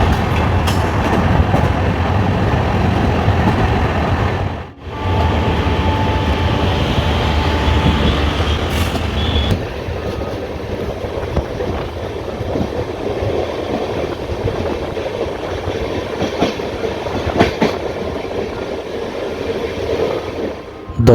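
South Bihar Express train rolling along the rails between Champa and Rourkela, a steady loud rumble with rhythmic wheel clatter throughout and a brief dip partway, no voices.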